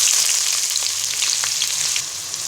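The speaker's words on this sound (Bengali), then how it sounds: "এবার 1 কাপ পরিমাণ পেঁয়াজ কুচি দিয়ে দিব।" Chopped onion sizzles in hot soybean oil, giving a loud, even, continuous frying hiss close up with no voices.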